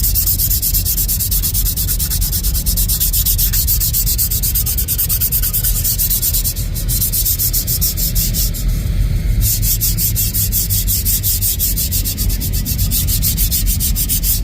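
A metal tool is rubbed clean by hand with abrasive in a workshop, a close, loud, steady back-and-forth scratching sustained for the whole stretch, no voices.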